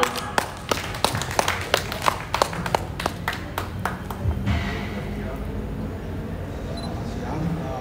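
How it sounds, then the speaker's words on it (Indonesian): Scattered, distinct claps and sharp camera-shutter clicks ring out at a football club press event, giving way to a dull murmuring room with a voice underneath. "kita berikan tepuk tangan paling meriah"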